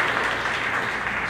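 Audience applause at an engine plant announcement event, a steady wash of many hands clapping throughout, fairly loud with no talk over it.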